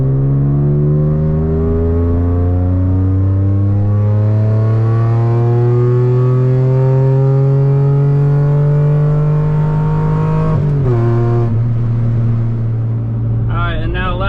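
A tuned Mitsubishi Eclipse engine climbs steadily in pitch under load through a third gear pull, loud and close, then drops briefly at a shift before revving again.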